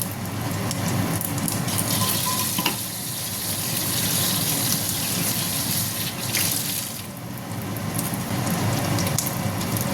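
Fish roe fritters frying in hot oil give a loud, continuous sizzle and crackle that stays dense and close, with slight swells and dips in intensity.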